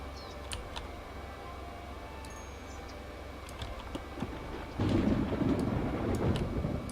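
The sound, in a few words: thunder during a storm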